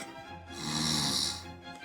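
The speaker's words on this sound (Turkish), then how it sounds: "Ancak Sünger Bob çok şiddetli horlar" A cartoon sponge character snores loudly in a Turkish radio play, one long drawn-out rumbling snore swelling in the middle of the short stretch with no talk over it.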